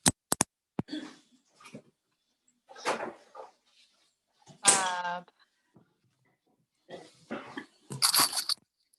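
A kitchen fridge door is opened and shut, with sharp clicks, soft knocks and rustling of items being moved around, separated by short pauses and brief bits of speech.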